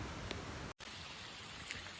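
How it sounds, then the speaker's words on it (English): Dense, steady patter of rain in the Welsh mountains, faint and far off, with a brief cutout partway and a few sharper taps of hail. "Quick update. It's hailing now."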